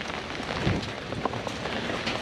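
Steady rain pattering onto a tight-fitting reflective Ultra Guard cover stretched over a Can-Am Ryker three-wheeler, an even wash of drops with occasional louder taps, no voices.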